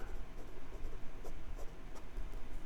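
A Wing Sung 601 fountain pen with a Mini Fude style nib scratches softly across paper in short strokes, close and quiet with a faint hiss behind it.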